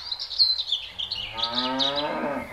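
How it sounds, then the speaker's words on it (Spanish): A dairy cow being readied for artificial insemination gives one long, rising moo that swells and holds near the end. Faint high chirps run over the top throughout. "Ahora vamos a inseminar a la vaca que se llama Matilda"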